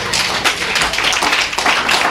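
An audience at a village gathering in Dolton clapping together, a dense close patter of many hands sustained without pause.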